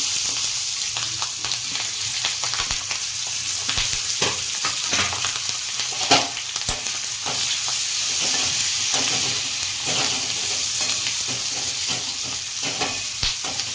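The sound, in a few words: chillies frying in oil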